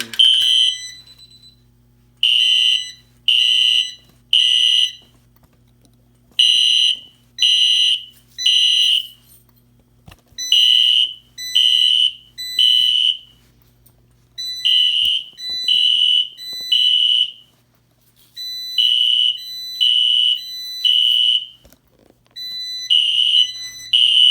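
A loud EST Fire Shield fire alarm sounds in repeating groups of three shrill beeps with short pauses between groups, steady and continuous.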